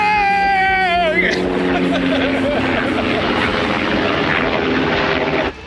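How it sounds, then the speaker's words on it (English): A helicopter's steady rotor roar fills the air from above, loud and continuous. A brief voice exclaims at the start, out on the water during an outing near a boat. "Helicopter!"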